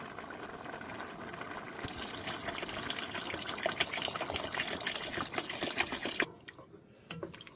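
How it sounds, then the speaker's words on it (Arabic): Water poured into a pot of Iraqi kibbeh hamudh with turnip, a steady broad gushing and bubbling roar that swells after the first two seconds and cuts off abruptly near the end, with no talk. "هسه حبايبي راح اضيف بعد مي."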